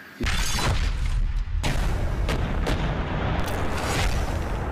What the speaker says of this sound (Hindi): हटे ना बहुत धमाका आवाज़ होगा और बहुत तेज होगा